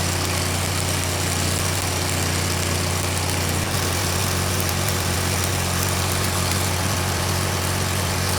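A farm tractor's engine idles in a steady, unbroken drone with an even low rumble and no other sounds.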